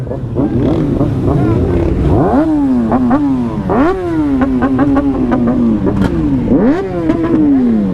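Several motorcycles rev again and again at a bike life gathering in Jamaica, held for a retired police officer's candle light ceremony. The revs rise and fall loudly close by, with voices mixed in.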